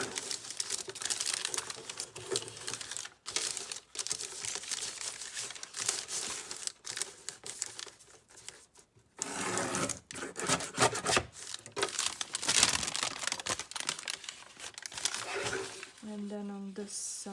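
Paper trimmed for a junk journal built from an A7 envelope, heard as dense, continuous close-up crinkling, scraping and cutting noises with brief pauses, and a voice speaking briefly near the end.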